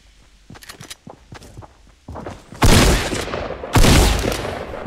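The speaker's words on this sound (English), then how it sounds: "Are you shooting at me?" Fortnite Battle Royale gameplay gunfire: a few light footstep-like taps give way to two loud, dense bursts of rapid shots, each sustained for about a second, close and dominant.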